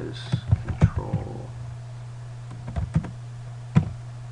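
Several sharp taps on a computer keyboard entering a shortcut, scattered clicks over a steady low electrical hum, with no speech.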